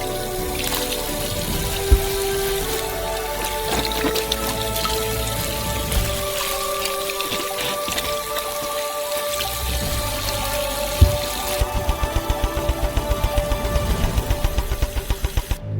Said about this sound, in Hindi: पानी से भरते हैं।